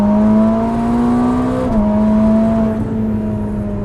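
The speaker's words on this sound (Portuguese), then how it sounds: "Cara, eu quero mostrar o ronco" Ferrari SF90 Hybrid fitted with a full Novitec exhaust, a loud steady engine drone heard from inside the car while driving, with a brief dip in pitch as it shifts gear midway.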